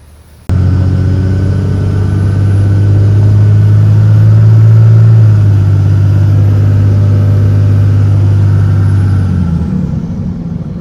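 A truck towing a car on a trailer drives along a highway. A loud, steady engine drone and rumble starts abruptly and holds for about ten seconds before easing slightly, with no voices.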